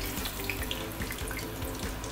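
Steady, dense crackling and hissing of tofu deep-frying in hot oil, continuous and close, with no voices.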